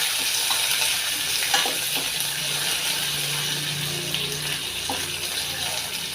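Curry leaves and chili frying gently in oil over a low flame, a soft continuous sizzle with faint stirring and clatter, a voice briefly heard in the background.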